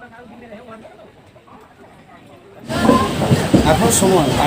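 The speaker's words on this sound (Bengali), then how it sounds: "আমাদের ট্রেন 22307 হাওড়া বিকানি সুপারফাস্ট এক্সপ্রেস সঠিক সময়ে হাওড়া স্টেশন থেকে ছেড়ে দিয়েছে।" A 22307 Howrah Bikaner Superfast Express train leaving Howrah station, with a quiet rumble that swells into loud, dense rolling clatter and hiss partway through, up close from on board.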